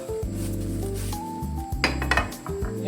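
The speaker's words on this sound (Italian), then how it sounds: "Lo saltiamo bene con la soia che è nel tegame." Tofu being tossed and sautéed in a pan with soy sauce, heard as metallic clinks and scraping of a utensil against the pan, with a ringing pot tone and a busier burst of clatter near the end.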